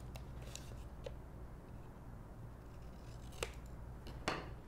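Scissors trimming paper corners on a diagonal during a papercraft brag book project, faint isolated snips over a steady low hum, a few quick cuts spaced apart.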